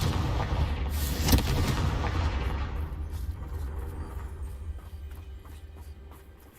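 A Confringo fire spell explodes in the video game Hogwarts Legacy: a single muffled blast with a deep rumble that slowly fades over several seconds, with no talking.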